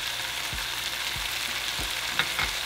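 Chili, oregano, cumin and salt cook in a hot pan with a steady, hissing sizzle, while several soft low thumps from stirring recur at a roughly even pace.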